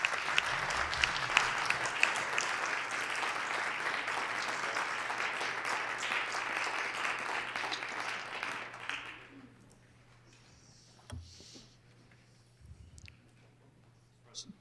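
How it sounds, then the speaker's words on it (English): A round of applause fills the South Dakota Senate chamber, dense steady clapping from many hands for about nine seconds before fading out, followed by a quiet room with faint scattered bumps and a low hum. "Let's give them a round of applause."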